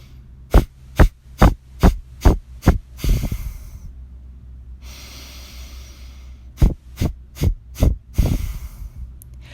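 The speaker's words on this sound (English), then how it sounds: "I like to do 3 rounds of powerful exhales, Kapalabhati." A series of sharp, rhythmic forceful exhales through the nose in Kapalabhati yoga breathing, spaced evenly in two sets separated by a quiet pause, close and clear.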